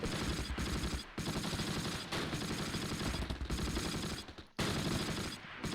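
Sustained gunfire in the Close Combat Last Stand Arnhem war game set near Eindhoven and Helmond: dense, continuous bursts of automatic fire and volleys, loud and close, broken by a few brief pauses, with no talk.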